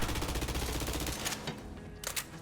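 Rapid automatic gunfire in Borderlands 3 while the character runs and shoots, a dense burst of shots that stops abruptly, followed by a couple of fainter pops.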